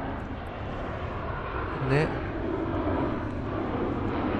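A JAL airliner flies over Itami Sky Park, its engines making a loud, steady broadband roar that swells slightly as it passes overhead, while a person speaks briefly.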